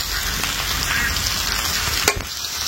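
Pumpkin curry with ginger paste, salt and spices stirred in a pan, giving a steady close frying sizzle with scraping stirs throughout and one sharp clatter near the end.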